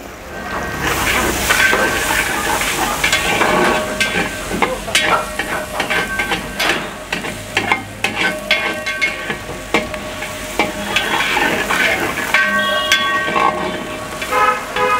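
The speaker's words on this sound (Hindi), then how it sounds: "उस टाइम पे मैं इसमें डालूंगा थोड़ा सा चॉप टमाटर" Chopped tomato hitting a hot pan for oats khichdi, with steady loud sizzling and frying under repeated scraping stirs throughout.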